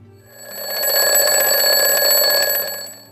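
A bright, steady alarm clock ringing at 3 a.m., a fast metallic bell-like tone swelling in over the first half second, holding loud and continuous for about three seconds, then tapering off, with no voices.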